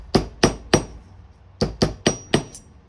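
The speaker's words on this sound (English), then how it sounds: "Now what I can do is come in with this old dusty hammer." An old carpentry hammer domes sheet metal with seven sharp, close metallic strikes: three evenly spaced blows, a short pause, then four more in quick rhythm.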